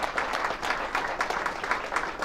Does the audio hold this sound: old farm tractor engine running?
no